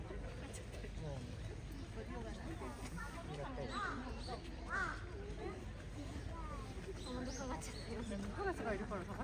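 Crows cawing at Ueno Zoo, with repeated harsh calls scattered through the clip at moderate distance over a constant background murmur of crowd noise.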